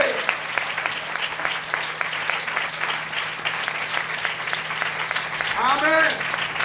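A church congregation applauds in a sustained burst of dense clapping, fairly close and loud, with a voice calling out briefly over the clapping near the end.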